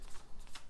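A quick, soft riffle of tarot cards being shuffled, brief papery flutters close up.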